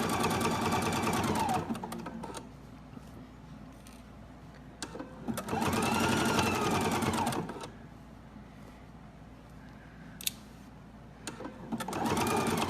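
Sewing machine stitching quilt fabric runs in three bursts of steady whirring, separated by quieter pauses with light mechanical clicks.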